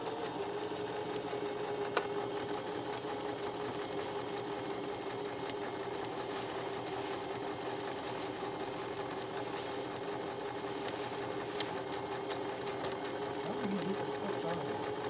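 Sewing machine stitching a buttonhole on blouse fabric, a steady continuous mechanical whir with fine rapid clatter running throughout at even loudness, close up, with no talking.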